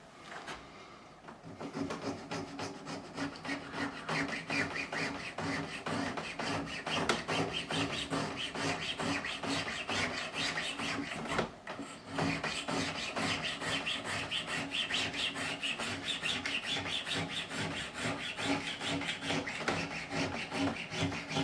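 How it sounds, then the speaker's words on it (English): A wooden surface being scraped by hand to smooth away overlapping edges: a long run of quick, rasping strokes in a steady rhythm, close and fairly loud, with one brief break partway through and no voices. "Now you can see when I'm scraping, look."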